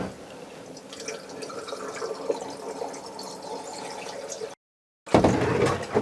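RV antifreeze is poured into the shower drain of a Winnebago Touring Coach Era van, making a steady trickling, gurgling flow. The pour breaks off into a brief silence, then resumes louder and splashier.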